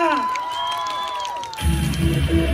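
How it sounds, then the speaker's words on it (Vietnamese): At an outdoor singing show in Trảng Bàng, a crowd cheers and claps as music with a sustained synth tone plays, the clapping surging noticeably louder partway through. "Xin một tràng vỗ tay thật lớn nữa các bạn."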